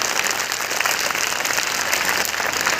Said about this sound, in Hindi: एक बार जरा उनके सम्मान में आप बड़ी तालियां बजाएं।